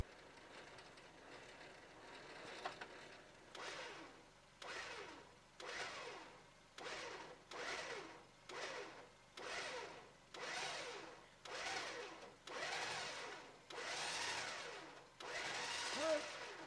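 A winch hauls out a stuck Suzuki Jimny, its motor whirring in a long series of regular pulses of about a second each, separated by brief pauses, moderately distant and fairly faint.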